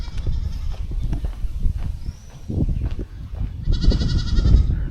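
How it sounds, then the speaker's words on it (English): Goats bleat repeatedly at a zoo in Asunción, Paraguay, several calls near and clear over a busy outdoor background of other animal and ambient noise. "Look at all these goats."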